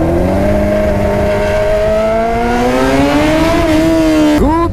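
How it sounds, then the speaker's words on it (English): A straight-piped motorcycle revs loudly inside a tunnel, a sustained droning roar whose pitch climbs gradually before dropping abruptly at the end. "I'm gonna do a nice straight pipe rev in that tunnel over there"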